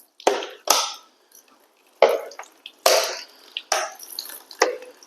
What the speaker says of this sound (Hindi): अब मैं क्या करूँगा, इसके ऊपर ठंडा पानी डालता हूँ।